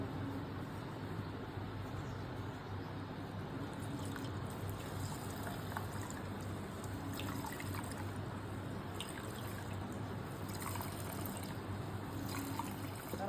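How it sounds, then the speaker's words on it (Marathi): Ground coconut pulp is squeezed by hand to press out coconut milk for Konkan solkadhi, giving a soft, steady trickle and dribble of liquid that stays quiet and close, with no talking. "हा चौथा मी आता थोडा एकदा पिळून घेते परत घट्ट"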